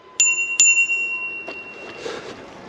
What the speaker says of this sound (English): You have got a little bell as well, folks,